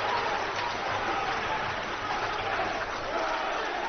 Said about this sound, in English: And this crowd in Atlanta's on their feet.